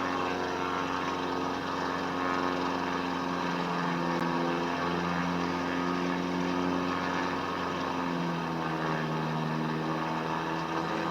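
A propeller aircraft engine drones in Microsoft Flight Simulator 2020, a steady loud hum with layered harmonics that shift slightly in pitch as engine speed is adjusted, continuous and without talk.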